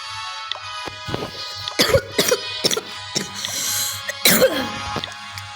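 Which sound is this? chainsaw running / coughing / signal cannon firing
coughing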